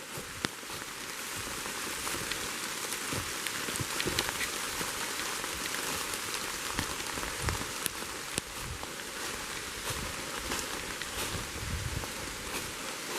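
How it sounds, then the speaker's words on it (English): Rain pattering steadily on a road beside a large sprawling maple, an even hiss of drops with scattered sharper taps close by, with no voices. "It's just starting to rain."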